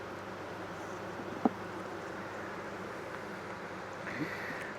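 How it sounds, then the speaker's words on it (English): Honey bees in a queenless hive, a steady low buzzing drone that fills the background evenly, with no voices and only a couple of faint knocks. "Ton of bees in here."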